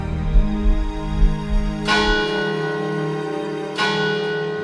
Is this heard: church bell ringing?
yes